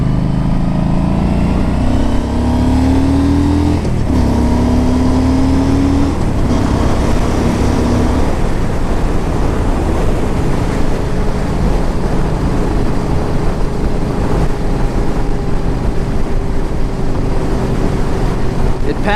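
A 2009 Yamaha V Star 1300 motorcycle is ridden on the road. Its engine drones steadily with a couple of rising revs, all under heavy wind rush, while a rider talks over it at times.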